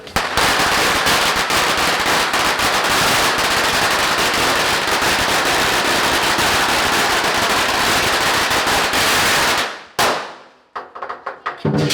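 Firecrackers exploding outside a temple in Malaysia, a dense, continuous crackling barrage of rapid loud bangs for about ten seconds that stops abruptly, leaving a few scattered pops.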